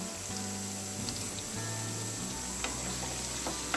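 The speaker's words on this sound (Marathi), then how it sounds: "आता हे आपण हलकसं परतवून घेऊ" Coriander powder, red chili and sambar masala sautéing in a pan for sambar, giving a steady, close sizzle with faint scraping throughout and no talk.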